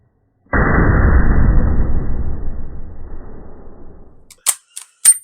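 A Carcano carbine fires a single loud shot that rings out and decays over several seconds, followed by a few short sharp clicks or clacks near the end.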